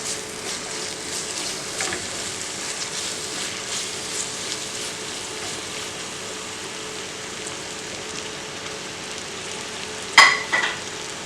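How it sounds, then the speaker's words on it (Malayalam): Onions sautéing with salt in a pan for Kerala fish molee, a steady close sizzle and frying hiss throughout, with a brief sharper clatter near the end. "അപ്പോൾ സവാള ചേർത്ത് നല്ലോണം വഴറ്റി കൊടുക്കുക."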